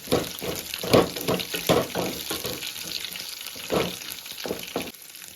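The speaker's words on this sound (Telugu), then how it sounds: "ఒక రెండు ఉల్లిపాయలు అనేది బాగా వేగింది ఇప్పుడు పచ్చిమిర్చి కూడా వేసుకుందామండి బాగా కలుపుకోవాలి" Onions and green chillies frying in a pan, a loud sizzle with bursts of stirring and scraping strokes that fade near the end, heard close with no speech.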